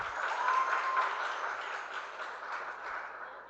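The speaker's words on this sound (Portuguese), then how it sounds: "dê um aplauso ao Senhor" A church congregation claps in praise of the Lord, a sustained round of applause from many hands that slowly eases in intensity.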